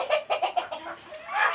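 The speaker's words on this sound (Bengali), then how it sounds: "একটা মোরগের বাচ্চা আর একটা মুরগির বাচ্চা" Two young chickens, a cockerel chick and a pullet chick, kept on a small home farm, give a quick run of close, soft clucks and chirps followed by a brief hoarse cry.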